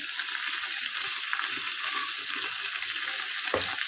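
Food frying in oil in a pan, with turmeric added, gives a steady hiss and crackle under faint stirring, close and continuous, with no voices.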